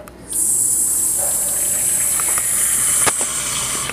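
Water pours from a tap into a plastic shaker bottle in a steady, loud gush that runs unbroken for several seconds, with a few small clinks near the end.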